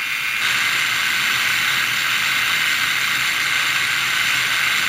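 A small H8C quadcopter motor is run slowly on a test, giving a steady, unbroken high-pitched whine that starts abruptly and holds at an even level throughout, close and fairly loud with no speech.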